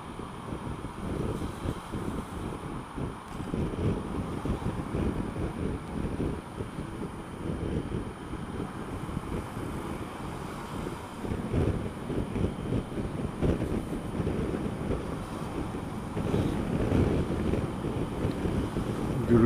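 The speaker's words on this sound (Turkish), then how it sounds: "Gürültüden de anlaşılıyor zaten fırtına gibi bir şey oldu." Strong, steady wind roars and buffets a microphone while riding a motorcycle, with gusty low rumbling throughout and no talking.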